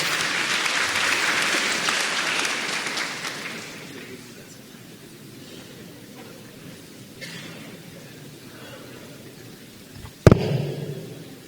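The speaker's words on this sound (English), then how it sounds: "Let us give him an applause." An audience applauds a keynote speaker at an international symposium, loud clapping that fades over a few seconds before a sharp knock near the end.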